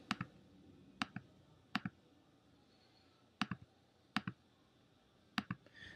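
Short clicks come in small pairs and clusters, spaced by pauses, as values are entered on a phone keyboard into the iWatchr calculator app. They are close and distinct over a quiet background with no voices.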